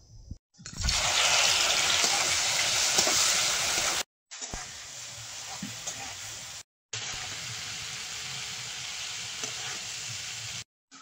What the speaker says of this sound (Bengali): এবার চিংড়ি মাছটা লবণ হলুদ দিয়ে ভেজে নেব।